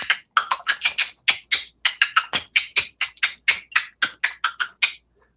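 A voice imitates clicking sounds heard in woods at night, likened to dolphin clicks or the tongue clicks used to urge a horse; about twenty sharp close clicks come in a quick, slightly irregular run.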